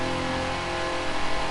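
A classic Lamborghini Miura's engine revs in a racing video game, a steady loud mid-pitched drone with harmonic whine, swelling slightly near the end, with no voices.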